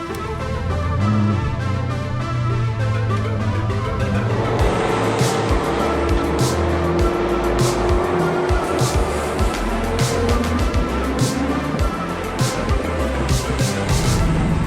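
A Toyota MR2 driven flat out on a racetrack, its engine droning loud and steady from inside the car, with a harsh mechanical roar and rattles, and brief voice sounds under the noise.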